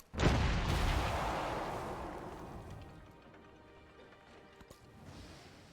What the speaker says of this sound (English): Can get another howitzer out right here. Barrage the city.